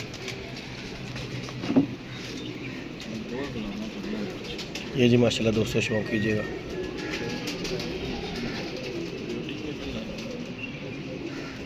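Pigeons coo in a loft, a continuous low murmur with a brief wing flap near the start and a burst of activity midway, while someone talks over them throughout.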